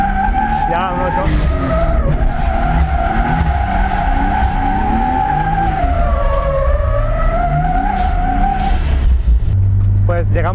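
A rally car drifts on a Menorca rallysprint stage, tires squealing and skidding continuously under a revving engine as the driver pulls the handbrake, loud and close throughout.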